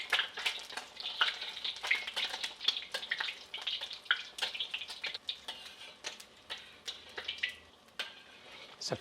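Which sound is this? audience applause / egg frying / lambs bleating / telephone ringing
egg frying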